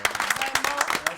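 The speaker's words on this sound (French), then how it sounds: "une bonne main d'applaudissements pour cette maman" An audience claps steadily for a volunteer mother, a dense, continuous wash of applause heard close and fairly loud throughout.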